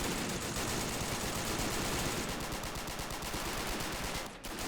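Continuous small-arms and machine-gun fire in Men of War Assault Squad 2 as British commandos and paratroopers storm a German hill fort, a dense, steady crackle of distant battle with no clear pauses.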